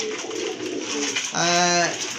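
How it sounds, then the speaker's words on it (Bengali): Pigeons in a breeder's loft give a single clear, low, throaty coo with a warbling roll near the end, preceded by softer fluttery murmurs, close by. "তো ফিরোজ ভাই জি জি এখানে আমার যে কয় পেয়ার কবুতরই আছে"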